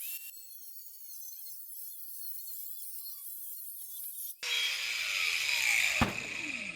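Metal piece being ground, a faint high whirring at first, then a sudden louder, harsh abrasive grinding hiss with a brief sharp spike near the end.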